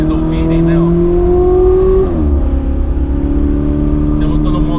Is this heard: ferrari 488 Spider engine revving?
yes